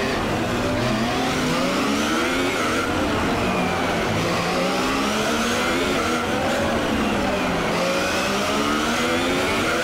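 Racing car engine in the F1 2018 video game at the Monaco Grand Prix, a loud continuous high-pitched whine that rises and falls with sweeping gear changes throughout, no talking.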